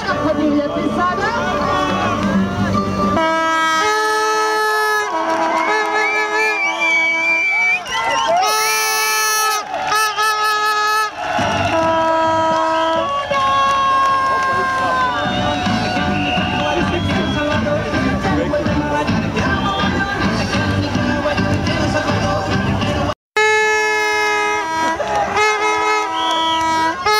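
Large festive crowd at the DH Gračišće 2012 event cheering and shouting loudly and continuously, with sustained horn blasts, whistles and music-like tones sounding over the roar, one brief dropout near the end.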